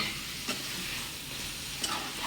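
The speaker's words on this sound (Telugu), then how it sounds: "ఫైనల్గా గరం మసాలా వేసేసుకొని కలిపేస్తుంది." Garam masala being stirred into a curry cooking in a pan: a steady low sizzle under soft scraping, with two brief louder stirs. No one speaks.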